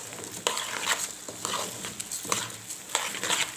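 Rice being stirred with fried vermicelli in a pot, giving repeated scraping stirs with a soft sizzle underneath, several spoon strokes at a steady rhythm, close and moderately loud.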